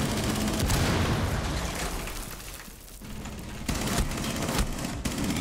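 Dense, sustained gunfire in the shooter game Rainbow Six Siege, loud bursts of shots filling the whole passage with no talk.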